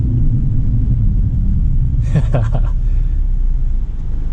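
All-terrain tires on a lifted 2020 Subaru Ascent hum and roar over a constant loud low road rumble as the car brakes under load, with a brief burst of higher tire noise midway.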